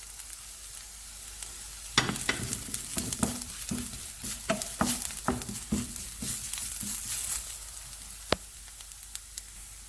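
Crushed chilli flakes stir-fry in a pan for a green gram stir fry, with hissing sizzles and a series of scraping, clattering stirring strokes that come in an uneven rhythm, close and fairly quiet.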